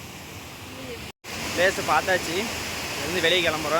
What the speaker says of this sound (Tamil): தண்ணி சவுண்டு வேறு கொஞ்சம் அதிகமாக கேட்குது.